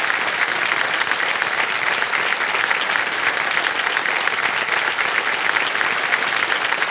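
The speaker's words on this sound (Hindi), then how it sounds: "तालियां बज जाए इनके लिए।" On the KBC quiz show set, the studio audience gives a contestant receiving a cheque a loud, continuous round of dense applause that holds steady for several seconds.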